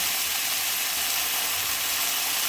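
Beef sizzles in a hot pan during a beef and broccoli stir fry, a constant bright hiss of frying that holds at one even level without pause.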